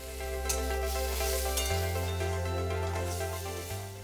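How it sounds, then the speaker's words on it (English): Onions and Maggi masala sauté in a pan with a soft continuous sizzle over a steady low hum, a few faint stirring scrapes, no talking. "we are going to add the Maggi masala and saute it for another minute"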